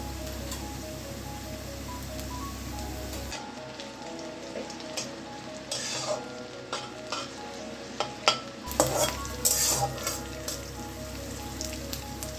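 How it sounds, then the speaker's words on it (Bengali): Pumpkin and vegetables fry in a pan and are stirred together with washed Malabar spinach, giving a steady close sizzle broken by scraping and clattering stirs that grow sharper toward the end, with no talk. "এরপর এর মধ্যে ধুয়ে রাখা পুঁই শাকগুলো দিয়ে আমি ভালো করে নেড়ে নিয়েছি।"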